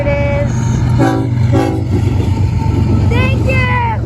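A passing train sounds its horn in several separate blasts, loud and close, over a steady rumble of rail noise, with voices of onlookers talking in the background.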